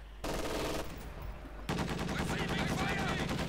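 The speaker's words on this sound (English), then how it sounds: "MG42 coming under fire there from the A half track. 50 calibers, 30mm guns will soon open up this one." An MG42 machine gun position in Company of Heroes 2 comes under fire from an American half-track, with dense bursts of automatic gunfire. Rapid shots rattle steadily and grow heavier and more continuous partway through, loud and close.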